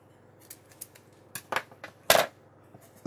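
Scissors snipping strips of masking tape while taping up a CPU cooler fin for spray painting, a few sharp, close clicks and cuts spaced irregularly over a quiet background.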